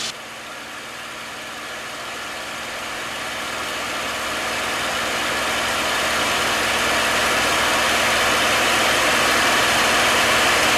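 A P-51 Mustang's piston engine roars steadily in flight, a dense, loud cockpit drone that slowly grows as the nose lowers and speed builds toward 260 knots, with no voices.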